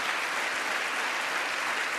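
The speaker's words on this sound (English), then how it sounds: "What are you clapping for" A large audience claps steadily at the State of the Union address, a dense, even wash of applause that holds the same level throughout with no voices on top.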